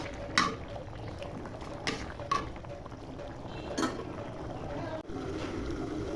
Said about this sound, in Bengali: ঢাকনা উঠে দেখি ডালে বলক চলে এসেছে